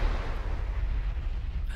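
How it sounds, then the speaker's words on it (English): A second, larger explosion rumbles through the video game Mass Effect, a loud, sustained low roar and crackle that is already under way and slowly settles. "I feel like that second explosion was much larger"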